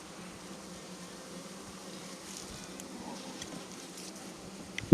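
Honey bees buzzing in a brood super during a hive inspection, a steady low-level drone of many insects close by, with faint scattered patter and a small bump at the end.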